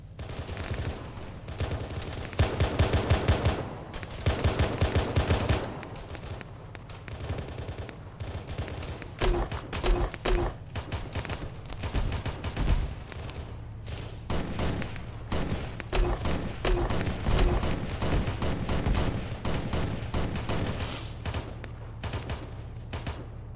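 Gunfire in the military video game Arma 3: sustained bursts and volleys of automatic fire, loud and dense, with heavier booming shots mixed in throughout, no talking.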